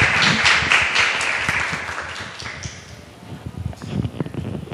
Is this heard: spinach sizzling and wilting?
no